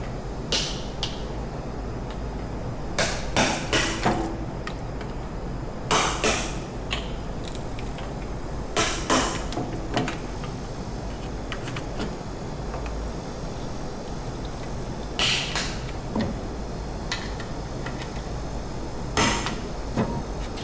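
A hammer knocks parts loose on a 1969 Ford 460 big block engine, sharp metallic strikes landing in small clusters of two to four blows with pauses between, close and loud against a quiet shop.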